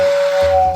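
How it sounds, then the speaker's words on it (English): A toy model train's whistling tender gives a steady, loud steam-whistle tone with a breathy hiss, sounding alone and close for under a second. "it came with the 2046 whistling tender"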